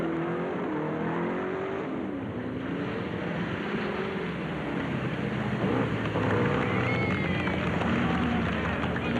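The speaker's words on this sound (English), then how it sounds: "It's a drag race." Drag race cars accelerate in a 1962 street scene, engines roaring and revving with rising and falling whines over a steady mechanical rumble, moderately distant, with a few voices faintly in the mix.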